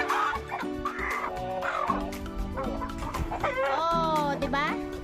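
Native chickens cluck and squawk close by, with a rooster-like crowing call rising near the end, over a busy background of music or chatter.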